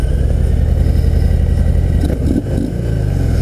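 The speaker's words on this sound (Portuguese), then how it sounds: "E faz som de Harley, né, cara?" A Harley-Davidson FXDR 114 with its Milwaukee-Eight V-twin runs loud and close in a steady, deep, throbbing idle, with a brief dip and blip of throttle near the end and no talking.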